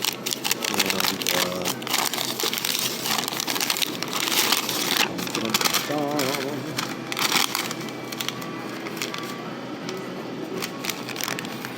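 Cardboard and plastic packaging rustling and crinkling as a box of Granatelli zero-ohm resistance spark plug wires is opened and handled, a busy run of close crackles and rubs with a voice faintly in the background.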